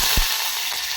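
Fennel seeds, cumin and curry leaves sizzle as they hit hot cooking oil, with a sudden thump when they drop in and then a loud, steady hiss of frying close by.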